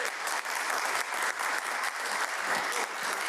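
A city council meeting audience claps steadily for a few seconds, a fairly faint and even patter of many hands filling a hall, with no voices over it.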